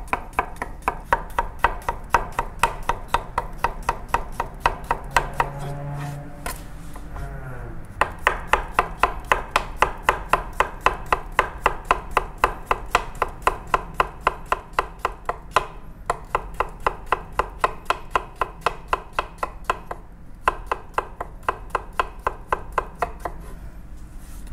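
Halved cucumber being sliced with a knife on a cutting board for an octopus salad, a long run of quick, evenly spaced crisp taps close up, pausing briefly a few times before resuming.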